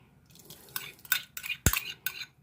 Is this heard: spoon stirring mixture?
yes